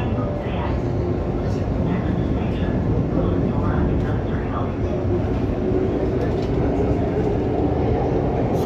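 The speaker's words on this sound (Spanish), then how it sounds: "estos son trenes Hitachi" Hitachi-built metro train on Lima Metro Line 2 rumbling steadily in the carriage or platform, a continuous loud low roar throughout with people talking faintly underneath.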